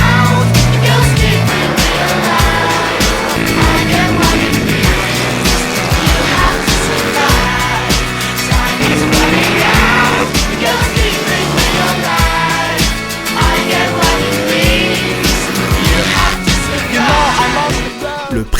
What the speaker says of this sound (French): les mômes se tirent la bourre sur de vraies machines de course, puisqu'il s'agit de monocylindres 4 temps de 250 cm3